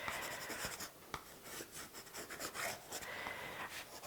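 Charcoal scratches across paper in quick, uneven strokes, close and fairly quiet, in a mixed media figure drawing with no talking.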